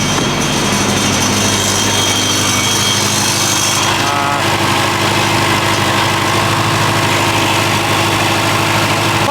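A Honda Type R engine idles roughly with a loud, persistent rattle and vibration, a continuous mechanical clatter close by that carries on throughout with no voices.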